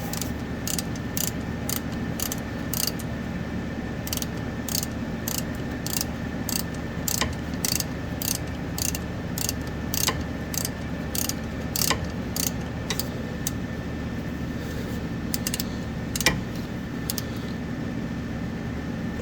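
A socket ratchet tightening an oil pressure sensor on a PACCAR MX-13 engine: a long run of quick, crisp, evenly spaced clicks, close up, over a faint steady background hum, with no talking.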